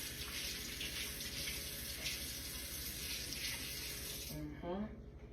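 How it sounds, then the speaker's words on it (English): Kitchen tap water runs steadily and loudly into a sink while an ingredient is rinsed for homemade ranch dressing, then cuts off near the end as a voice begins. "Rinse, Grandma said rinse it off."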